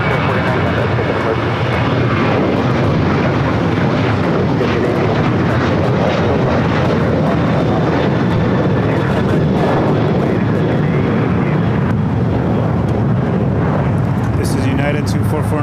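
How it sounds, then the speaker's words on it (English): A nine-year-old United Boeing 737-900 jet at LAX, a loud sustained engine roar filling the whole clip, with brief higher sounds near the end. "This is United 2449 going to Las Vegas on a 9-year-old Boeing 737-900."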